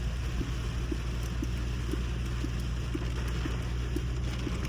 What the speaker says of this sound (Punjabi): ਲੋ ਜੀ ਬਰਸਾਤ ਵੇਖ ਸਕਦੇ ਤੁਸੀਂ